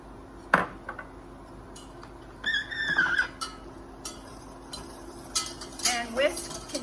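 Flour being whisked into melted butter and milk in a pan for a mac and cheese sauce, a light metallic stirring and scraping that comes in short bursts, with faint kitchen clatter around it.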